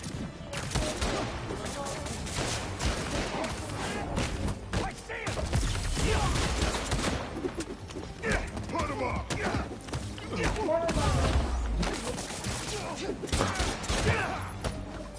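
Bursts of gunfire in the video game Marvel's Spider-Man, rapid repeated shots and thuds amid game action and music, with a person talking over them at times.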